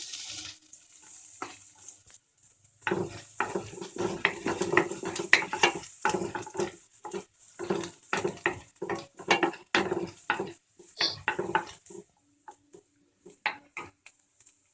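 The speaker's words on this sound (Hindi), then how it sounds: "मेरा मिर्च भुन चुका है, तो मैं इसमें प्याज डालूंगी।" Chopped onion hits hot oil with frying green chillies in a pan, a sizzle followed by irregular scraping and clinking of a spoon stirring against the metal, close up, then settling to quieter sizzling.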